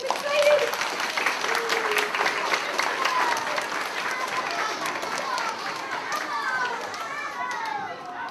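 An audience at a first grade academic school assembly applauds, with sustained dense clapping mixed with children's excited shouts and chatter throughout, fairly loud and steady.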